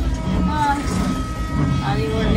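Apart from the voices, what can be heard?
train moving and rocking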